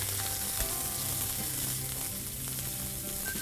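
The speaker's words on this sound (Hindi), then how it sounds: "बाद आप इसमें डालेंगे कटी हुई सेलरी थोड़ी सी और लीक्स. इनको आप स्वेट कर लीजिए." Chopped celery and leeks sweat in a hot pan with a steady, close sizzle and a few faint stirring scrapes, and nobody speaks.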